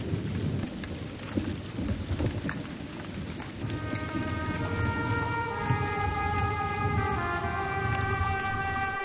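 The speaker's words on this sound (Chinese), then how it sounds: "洪水带着轰隆隆的响声突然冒出地平线，呼啸着冲过干涸多年的交流河河道" Floodwater roars through a long-dry river channel after upstream rainstorms, a heavy continuous rumbling rush, joined midway by sustained tonal music over the churning flow.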